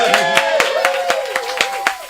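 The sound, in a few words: audience applause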